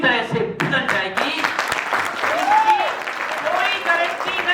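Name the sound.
audience applause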